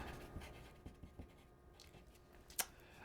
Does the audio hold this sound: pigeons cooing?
no